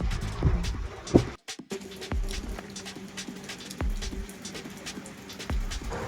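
Heavy rain falls steadily on a car during an intercity trip from Chennai to Tirumala, a dense, faint, continuous patter with scattered drips and a few louder knocks.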